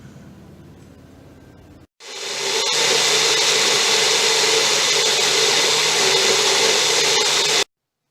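Countertop blender blending oatmeal with water for homemade oat milk: a loud, steady motor roar that starts abruptly, runs evenly for several seconds, then cuts off sharply, with no talk over it.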